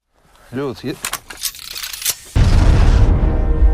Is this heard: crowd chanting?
no